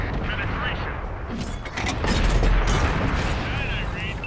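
Tank cannon fire and explosions in the online game World of Tanks, heavy rumbling blasts over continuous loud battle noise, with voices talking over the action.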